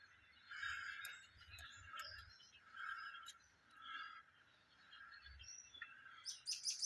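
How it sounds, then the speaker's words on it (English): A small bird calls from a nest tucked in honeysuckle, giving repeated high chirps and short tweets in irregular bursts, faint and somewhat distant, with no talking over it. "there's a bird in there"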